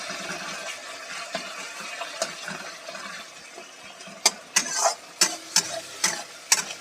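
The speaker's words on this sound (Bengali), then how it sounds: "একটু নেড়ে চেড়ে এখানে জল অ্যাড করে দেব।" A spoon stirs cooked-down tomatoes in a pan, faint scraping and soft sizzling at first, then a series of sharp metallic clinks against the pan near the end.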